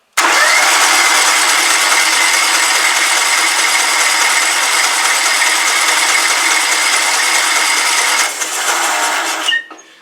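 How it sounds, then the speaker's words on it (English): A methanol-fuelled pulling engine, shut down for winter storage, is spun over at wide-open throttle with the ignition off: a loud, steady mechanical whirring runs for about eight seconds, then winds down and stops. "make sure the ignition's shut off, and just give her a wide open throttle."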